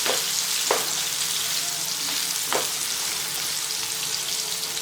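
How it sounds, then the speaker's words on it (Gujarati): Ridge gourd sabzi sizzles steadily in a pan, a dense hiss of frying with three or four quick scraping stir strokes standing out at intervals, close and without voices. "અને ફરી આપણે હલાવી લઈએ."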